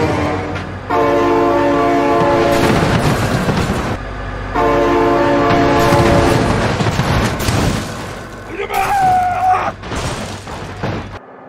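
A train passes close by with loud, sustained horn blasts in two long stretches, with rumbling wheels and clatter beneath. It ends with a short squeaky cry over the fading rail noise.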